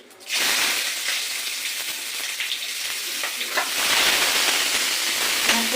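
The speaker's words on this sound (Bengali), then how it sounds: "পেঁয়াজ ভাজবো" Sliced onions fry in oil in a home kitchen pan for a shrimp and banana-flower curry, giving a steady, close, dense sizzle that begins after a brief quiet moment and keeps going with occasional stirring scrapes.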